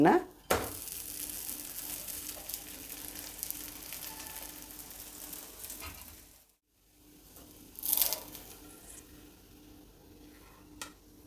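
A ridge gourd dosa, coastal Karnataka style, cooks slowly in a pan over low heat, giving a soft, steady sizzle, with a couple of louder clatters from the pan or lid and a brief silent gap midway.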